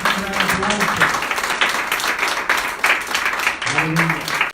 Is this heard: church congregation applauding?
yes